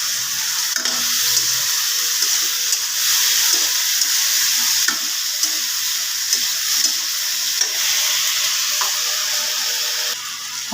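Tomatoes sizzle in a pan with cumin paste and ginger-garlic paste for a fish curry, a loud, continuous crackling fry with faint stirring and no talking.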